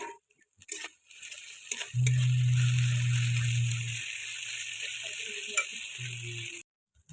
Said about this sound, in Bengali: আদা বাটাটা দিয়ে দেওয়ার পর আরও কিছুক্ষণ কষাতে থাকবো